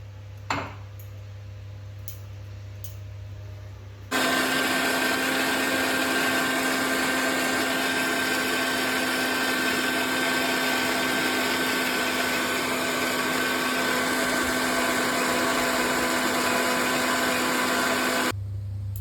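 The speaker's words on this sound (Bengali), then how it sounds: "তো দেখুন এটার মধ্যে নিয়ে নিয়েছি পেঁয়াজ, রসুন আর কিছুটা আদা। এটা একটু আমি পেস্ট করে নেব।" A mixer grinder whirs loudly as it blends onion, garlic and ginger into a paste, starting abruptly after a few seconds of quiet hum and clatter, running steadily for about fourteen seconds, then cutting off.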